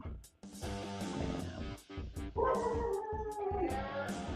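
A dog barks and yelps repeatedly in quick, uneven bursts, rising into higher whining cries midway, heard at a moderate distance and fairly faint overall.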